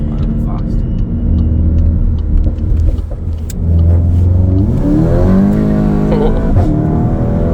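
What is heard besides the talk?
car engine revving under load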